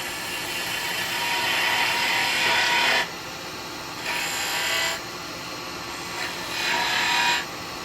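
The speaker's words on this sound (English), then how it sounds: "I like using this spindle gouge." A spindle gouge cuts into wood spinning on a lathe while a snowman lidded gift box is turned, giving a continuous scraping hiss that swells in several passes over the steady hum of the machine.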